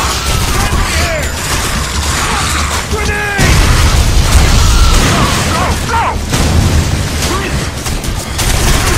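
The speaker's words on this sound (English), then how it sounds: "Grenade!" A grenade blast booms midway through heavy gunfire in the PS2 shooter Area 51, with sustained bursts of shots before and after and voices calling out over the fighting.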